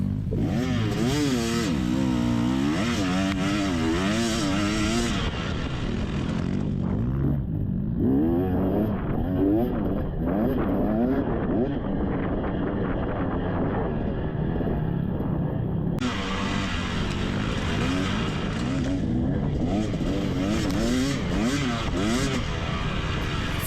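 Off-road dirt bike engine revving and accelerating through a wooded cross-country race course at Whitetail Retreat in Carolina, loud and close with rising and falling pitch as the throttle opens and closes.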